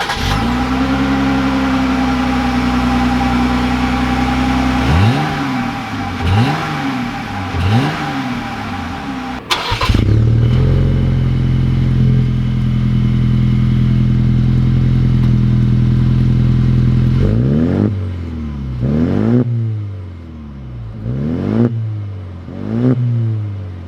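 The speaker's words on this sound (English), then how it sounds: "let's roll the exhaust clips" Modified Ford Ranger and Jeep Gladiator exhausts rumbling loud and close, each idling and then blipped through a series of sharp revs that rise and fall, with a brief cut between the two trucks and no talk.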